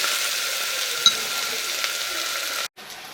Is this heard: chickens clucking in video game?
no